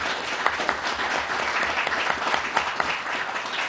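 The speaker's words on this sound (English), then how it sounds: "So let's give the candidates a big round of applause for being in this forum." Audience applause for the candidates at a League of Women Voters mayoral candidate forum in Camp Verde, a full steady round of clapping from a seated crowd, with no talk over it.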